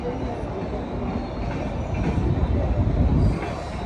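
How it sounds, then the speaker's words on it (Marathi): A Mumbai local train arrives at Masjid Bandar station, rumbling steadily with a low roar that swells as it draws closer, wheels faintly clattering beneath the noise. "हा ट्रेन येईल आता लोकल"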